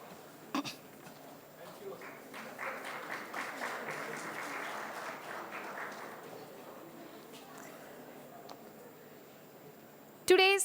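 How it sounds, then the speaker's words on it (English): A round of applause from a conference plenary session audience welcoming a speaker, steady clapping for several seconds under faint voices, then fading out. "Welcome, Professor J Rao, with big round of applause"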